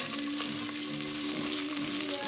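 Tomato paste hits a hot soup pot of meatball spinach soup with a steady, close sizzling hiss and faint stirring, unbroken for a couple of seconds, with no talking.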